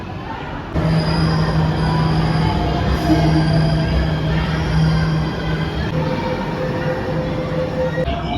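A Jakarta MRT metro train rumbles along at steady speed, a loud continuous roar with a high whine and faint squeal riding over it, heard from inside the car.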